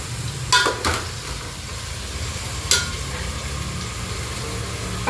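Soaked green moong beans go into a cooking pot for veg pulao with a steady close sizzle, plus a few sharp scrape and stir clatters early on.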